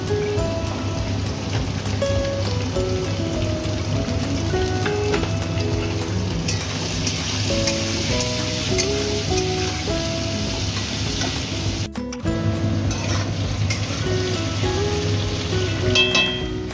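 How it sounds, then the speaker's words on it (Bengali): Potatoes with turmeric and salt frying in a pan, a dense, continuous close sizzle like heavy rain, with faint tonal background sounds and a brief break near the end. "হলুদ দেব আর নুন দেব, দিয়ে ভেজে নেব আলুটা।"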